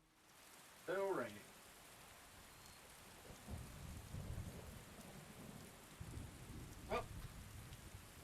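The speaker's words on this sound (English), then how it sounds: "Still raining." Steady rain falls in Skyrim with low rumbling thunder rolling through a thunderstorm, fairly quiet and distant, while a voice makes a short exclamation early on.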